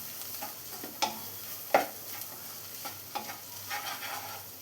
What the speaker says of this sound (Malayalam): ഇതെല്ലാം ചേർത്ത് നന്നായിട്ടൊന്ന് മിക്സ് ചെയ്തെടുക്കാം.